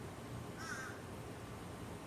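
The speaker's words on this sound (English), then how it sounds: "Here's a bird who really wants to talk to me." A single bird, sounding like a crow, gives one brief caw partway through, faint and distant over a steady background hiss.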